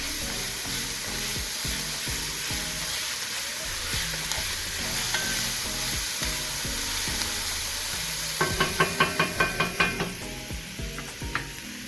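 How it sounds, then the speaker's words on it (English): Vegetables sauté in a pan with a steady sizzle while they are stirred, the spoon scraping in repeated strokes, then a quick burst of rhythmic clattering near the end, all close up and without speech. "So I'm going to stir these for a minute or so."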